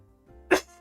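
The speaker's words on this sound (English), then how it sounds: "Getting this cough, my bad, guys." One short, sharp human cough bursts out near the end after a moment of near silence, close and fairly loud, from a streamer during a live Rocket League broadcast.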